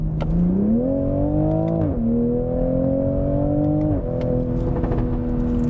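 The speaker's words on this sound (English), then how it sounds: "Downshift. Wow, those exhaust crackles." A 2021 Toyota Supra engine revs up through a rising whine, then drops pitch twice as it downshifts, with faint popping crackles from the exhaust.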